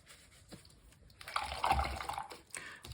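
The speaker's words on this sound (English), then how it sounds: "So I'm gonna rinse it off just in water and then wipe it off with a paper towel." A paintbrush, an angular brush, is swished and rinsed in a container of water, giving soft, faint sloshing and dripping that swells briefly in the middle, with no talking.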